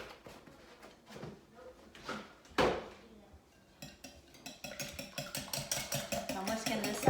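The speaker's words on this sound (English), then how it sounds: "I'm whisking this up" Six eggs for a quiche are whisked in a bowl, first with a few scattered clinks and a sharp knock, then settling into a rapid, even rhythm of light metallic beating against the bowl, close by.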